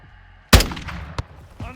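Rockets and gunfire in the video game Call of Duty MWII: a loud, sudden explosive blast followed by a sharp second shot and a fainter third report, set against quiet background hum.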